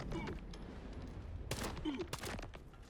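Gunfire from a first-person shooter video game, a dense fusillade of rapid shots striking the player, with sharp bursts crowding into each other over a steady rumble of game noise, loud and close.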